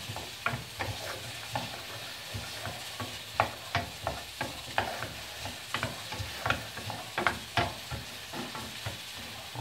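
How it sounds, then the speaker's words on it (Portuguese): Onion frying in butter gives a soft continuous sizzle with frequent scraping and stirring taps from a utensil in the pan, fairly quiet and close, with no voices. "Coloquei aqui para dar uma fritada na cebola."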